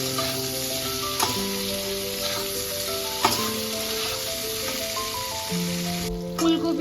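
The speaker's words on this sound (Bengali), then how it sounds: "এবার এর মধ্যে আমি অল্প একটু লবণ আর অল্প একটু হলুদ দেব, মানে ভাজার মতো দিয়ে আমি ভালো করে এটা ভেজে নেব" Cauliflower and potato pieces fry with salt and turmeric in hot oil, giving a continuous close sizzle with a few sharp utensil knocks and scrapes over the steady hiss.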